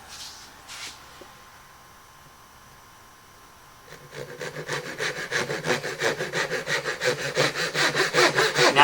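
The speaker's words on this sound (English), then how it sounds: "Now the reason why I use a hand saw" Hand saw cutting into a marked line on wood, starting after a few quiet seconds with a scrape or two, then settling into a steady rhythmic back-and-forth rasp that grows louder with each stroke.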